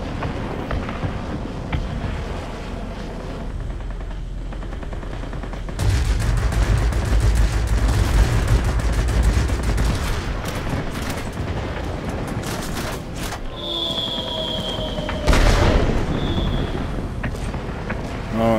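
Bomb blasts and gunfire in a flight combat video game, with a heavy rumbling explosion near the middle, scattered bursts and booms, and a high whine later on, all loud and dense throughout.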